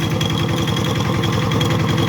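A walk-behind farm tractor engine running on the way to a rice field, a loud, close, steady chugging drone with rapid regular knocking pulses.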